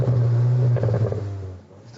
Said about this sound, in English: the quad exhausts producing the kind of exhaust note you want to hear